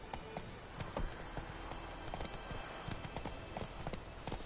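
Horse hooves clip-clopping at a brisk trot in The Witcher 3: Wild Hunt, a steady rhythmic run of close, distinct hoofbeats with faint background ambience and no speech.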